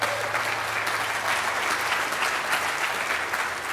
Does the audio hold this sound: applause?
yes